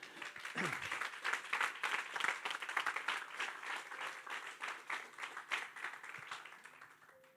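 A church congregation applauds together, a steady wash of many hands clapping at moderate volume that thins out toward the end.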